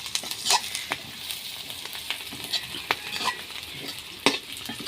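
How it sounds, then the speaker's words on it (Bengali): Onions and green chillies sizzle in hot oil left over from frying fish, a constant close hiss broken by sharp stirring clacks and spatters. "আমি মাছ ভাজার তেলেই পেঁয়াজ মরিচ দিয়ে দিয়েছি"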